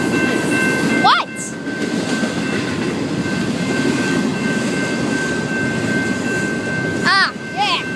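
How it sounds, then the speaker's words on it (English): A train rolls steadily along the rails with a loud, continuous rumble and rattle. High squealing chirps from the wheels come near the start and again near the end, and a steady tonal whine runs throughout. "now the train moving"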